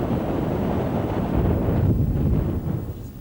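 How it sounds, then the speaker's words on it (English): Desert wind driving blowing sand across dunes on the Paris-Dakar Rally route, a steady, loud, roaring gust that buffets the microphone throughout with no voices. "the sand started to blow"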